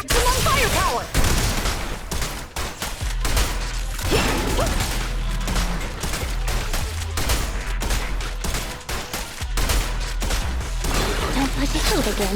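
Gunfire from a weapon in the Zenless Zone Zero action game rattles in dense, rapid volleys mixed with mechanical clanks and impacts, loud and near, with occasional voices layered over the barrage.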